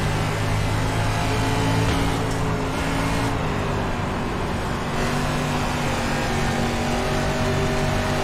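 Race car engine in iRacing dirt oval racing, droning loud and steady with layered harmonics throughout, pitch shifting slightly as the car carries speed, with no talking.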